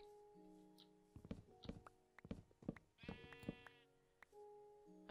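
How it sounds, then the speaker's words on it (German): Sheep in the video game Minecraft bleat several times in quick wavering calls, mixed with soft thuds and footsteps over light background music, with no talking. "Also hier ist irgendwo ein Schaf, das habe ich gehört."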